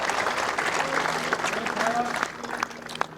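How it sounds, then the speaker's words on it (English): A lawn bowls crowd at the 2023 World Bowls Championships women's singles final applauding steadily, a dense patter of clapping that thins out toward the end, with a few voices mixed in. "I like the round of applause that bowl got"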